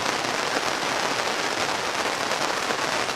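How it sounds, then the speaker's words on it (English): Heavy rain pours down in a dense, even hiss of drops, continuous and fairly loud with no pauses, and no voices are heard. "here comes the rain"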